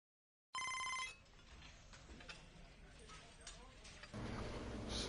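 Telephone in the MLB The Show 25 baseball video game ringing loudly in a rapid bell-like burst for about half a second, then fading under game background sound and voices.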